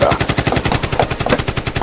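Rapid automatic gunfire rattles without pause, loud and close, a dense burst of evenly spaced shots filling the whole stretch.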